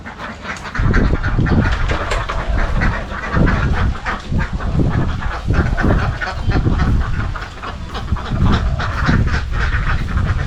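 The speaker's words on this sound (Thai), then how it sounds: "ไปแล้วนะจ๊ะน้องเป็ด" Ducks quack loudly and repeatedly in a garden setting, a dense flock calling close by in overlapping bursts throughout, with no talk over them.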